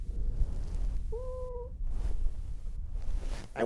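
A cat gives a single clear meow while being picked up beside a kitchen sink, a short rising-and-falling call amid quiet background handling noise.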